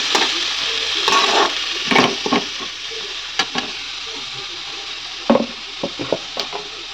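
Shredded cabbage is stirred in a frying pan, and a spatula scrapes and knocks against the pan in irregular bursts over a continuous close sizzle.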